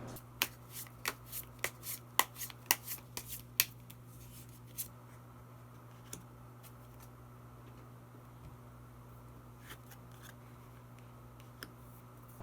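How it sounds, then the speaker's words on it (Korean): Tarot cards drawn from a deck: a quick run of crisp shuffling clicks and card snaps early on, then sparse faint taps over a quiet low hum, close and soft with no speech. "마지막으로 히든 카드 한 장 더 뽑아보도록 하겠습니다"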